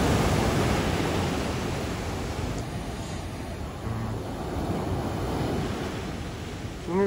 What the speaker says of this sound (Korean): 오늘 진짜 파도가 장난 아니에요